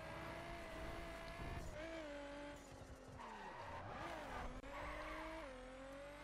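In the video game The Crew, a car brakes hard and its tires squeal in a long, wavering skid over a steady engine drone. The skid is close and continuous, and the engine pitch dips and rises.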